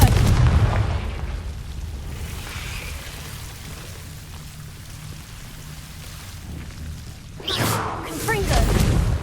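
Confringo blasting spells explode in the Hogwarts Legacy video game, with heavy rumbling booms at the start and again near the end and a lower crackling roar between them.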